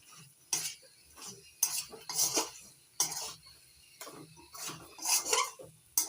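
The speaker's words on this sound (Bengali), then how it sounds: "লবণ সঙ্গে ভালো করে মিশিয়ে নিচ্ছি" A spoon scraping and stirring through spinach curry cooked with hilsa fish head in a pan after salt goes in, in several bursts of close scraping with pauses between.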